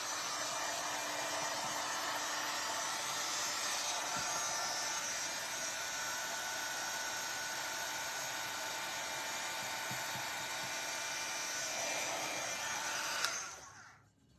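Steady, loud whirring blast of a dryer held over a craft project, running continuously and then cutting off at the end, with no talk.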